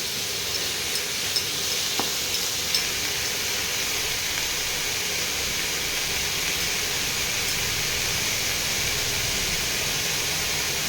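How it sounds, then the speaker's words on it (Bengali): Chicken frying with onions in a pan, a steady even hiss of sizzling oil throughout with a few faint stirring clicks, no talking. "পেঁয়াজের সঙ্গে চিকেনটাও ভাজা ভাজা হয়ে যাচ্ছে"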